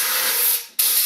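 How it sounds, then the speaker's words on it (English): Compressed air blasts in a loud continuous hiss to clear metal chips from behind the jaws of a lathe chuck, cutting off briefly before resuming. "Compressed air is ideal for blowing chips out from behind."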